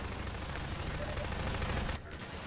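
Sustained gunfire from Half-Life 2 gameplay, a dense continuous wash of rapid shots filling the clip with no clear gaps, briefly dropping away near the end before resuming.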